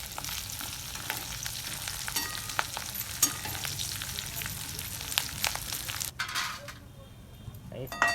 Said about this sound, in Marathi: चांगला खडंग झालाय आता ते तळून घ्यायचं चिवड्यासाठी